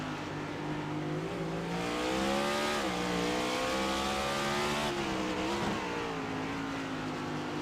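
Race cars accelerating at a street course in a sim racing game, a loud continuous engine roar with rising and falling revs as several cars pull away together.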